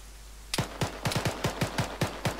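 Gunfire in Arma 3, a rapid run of about ten sharp single shots at a fairly even pace, moderately loud and clear over a quiet background.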